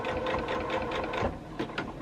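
Sewing machine running slowly to stitch piping onto a quilt border, a close, rhythmic mechanical whir with repeated needle thumps and a brief pause near the end.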